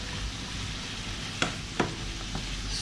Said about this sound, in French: on laisse bien cuire la viande hachée doucement